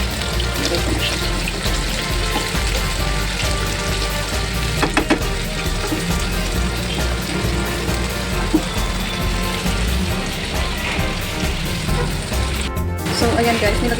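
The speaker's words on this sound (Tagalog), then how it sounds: "Ipipisa na natin yung sibuyas at kamatis." Onion and tomato sautéing in a pan for arroz a la cubana, a steady broadband sizzle running close and continuous throughout, with faint clinks and a brief dip near the end.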